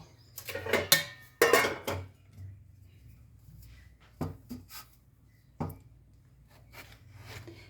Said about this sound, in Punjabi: ਹੁਣ ਆਪਾਂ ਨਾ ਤਰਬੂਜ ਦੀ ਕਟਿੰਗ ਕਰਾਂਗੇ